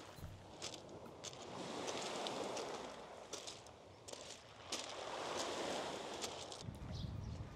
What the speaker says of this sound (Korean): 저는 해안가를 따라 옥돌이 파도에 부딪히는 소리를 들으면서 가도록 하겠습니다